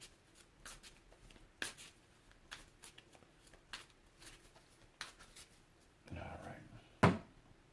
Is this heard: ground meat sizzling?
no